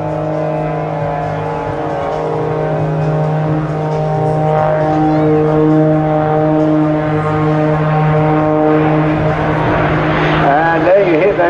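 Jet engines on a display aircraft at the Bournemouth Air Festival kick in with a sustained, droning, tonal roar that swells steadily, heard at a distance under a commentator's voice.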